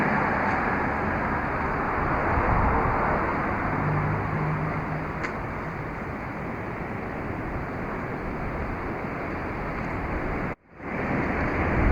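Strong wind roars and buffets steadily against the microphone at Kirkmichael on the Isle of Man, a continuous loud rush that drops out briefly near the end.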